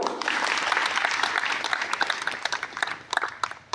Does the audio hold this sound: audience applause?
yes